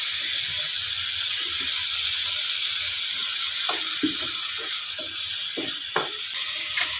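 Whole spices sizzling in hot mustard oil in a pan while cooking a Bengali prawn curry, a steady bright hiss throughout with a few small pops and clinks near the end.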